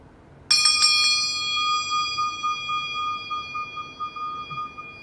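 An ancient handmade Tibetan metal bowl is struck once, ringing with bright layered overtones, then a steady tone sustains and slowly pulses as it fades, alone and fairly close.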